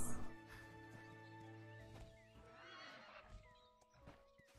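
A horse in the video game Astellia whinnies loudly and close, with clip-clop hooves and soft game background tones throughout.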